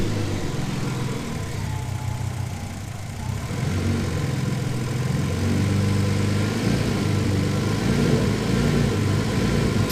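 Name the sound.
twin turbo Ford Capri engine hunting at idle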